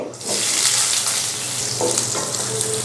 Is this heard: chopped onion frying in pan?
yes